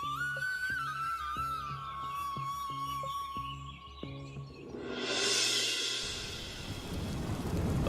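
Cartoon thunderstorm with rain: after a stretch of whistling music, a loud burst of hissing rain and thunder rumble swells in and continues to the end, with no voices.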